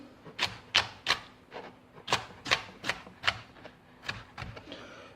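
A knife chops spring onion on a board for gazpacho, about a dozen crisp, close taps in an uneven rhythm, quiet and alone with no talking.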